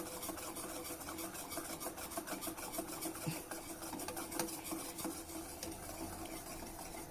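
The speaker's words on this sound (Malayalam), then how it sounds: "ഒരു മിനിറ്റോളം നമുക്ക് നല്ല പോലെ ഇളക്കി കൊടുക്കാം" A spoon steadily scrapes and stirs custard as it cooks in a pan, a continuous rasping, swishing sound with small clinks, close and even, with no talk.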